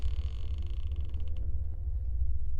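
A low, drawn-out creak like a heavy door swinging open in a horror video game, grinding over a steady low hum, with no voices.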